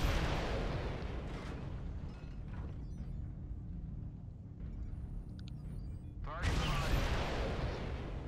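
ATM missiles firing in MechWarrior Online, bursts of booming launches and blasts over a rumbling battle backdrop, with a louder burst toward the end.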